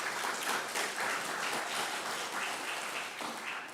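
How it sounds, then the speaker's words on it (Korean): A church congregation applauding to welcome a visitor, dense sustained clapping from many hands filling the room, steady and fairly loud for several seconds before easing slightly. "한번 일어나 주시면 박수로 환영하겠습니다."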